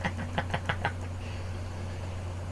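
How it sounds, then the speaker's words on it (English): Several quick, gentle knocks on a door in a steady rhythm, then stopping, heard over a constant low hum with no voices. "A rapping, a gentle rapping on my chamber door"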